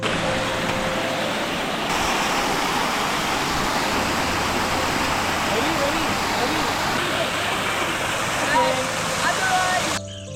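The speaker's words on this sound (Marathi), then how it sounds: "वाहणारं पाणी धबधब्या स्वरूपात दिसत होतं" A monsoon waterfall on the Adrai jungle trek in Maharashtra pours in a continuous, dense roar that stays loud and unbroken throughout, with faint voices buried under the rushing water.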